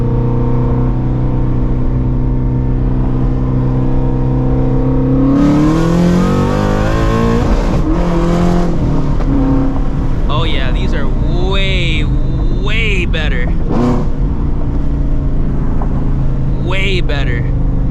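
Shelby GT350 on drag radials launching in first gear: a loud idle rumble builds into a hard, rising rev as the car pulls away, engine howl dominating with voices talking over it.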